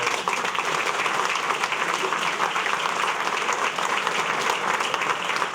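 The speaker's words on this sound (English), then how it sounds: "Could you give our Lynbrook Fire Department a big round of applause?" Sustained applause from a dinner audience at a chamber of commerce event honoring the Lynbrook Fire Department, a dense, even roar of clapping hands that stays loud and steady throughout.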